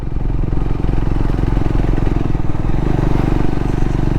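A motorcycle on a long mountain ride in Nepal, engine droning loud and close with a steady pulsing rumble and continuous wind and road noise throughout.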